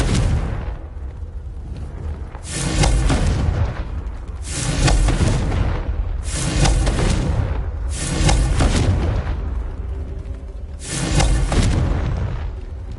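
Repeated blasting-spell explosions in the video game Hogwarts Legacy: a series of heavy booming bursts at roughly two-second intervals, each with a rumbling tail, loud and continuous with no speech.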